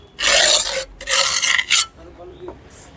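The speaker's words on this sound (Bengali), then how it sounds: "এইভাবে মশলাটা আমরা যখন পয়েন্টিং করে দেব" A steel trowel pointing cement mortar joints on a concrete hollow block wall gives two loud, close, gritty scraping strokes, then a short rasp and faint scuffs.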